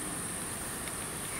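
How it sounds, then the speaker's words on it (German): A grasshopper chirps in a steady, high-pitched buzz outdoors on a herb walk through Bavarian countryside. The sound runs continuously and faintly through the short stretch, with no voices. "Ein Grashupfer."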